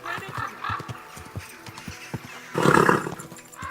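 A horse in the medieval game Kingdom Come: Deliverance 2, with steady clip-clop hoofbeats throughout and a loud snorting whinny near the end, close and clear.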